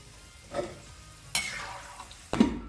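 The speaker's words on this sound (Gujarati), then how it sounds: "લઈ લેશું ઝારાની અંદર જેથી કરીને તેલ બધું નીતરી જાય." Fried cashews are lifted out of hot oil with a slotted spoon: three brief scraping, splashing bursts over a faint sizzle, no speech.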